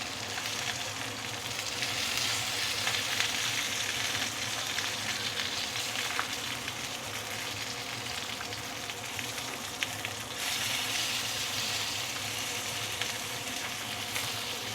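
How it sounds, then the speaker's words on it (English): Ikan keembung fish pan frying until charred, a steady dense sizzle and crackle of hot oil running continuously and fairly close throughout, with no voices. "I tend to over fry my fish a bit because I like my fish to be charred"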